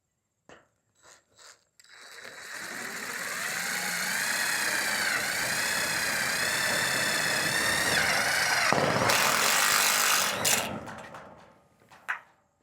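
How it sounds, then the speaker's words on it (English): A power drill drives a screw into wood while a carport is being enclosed: a few short trigger bursts, then a long rising whine as the screw sinks, ending in a scrape and one more quick burst. "let's see if we can drive one of these guys in here"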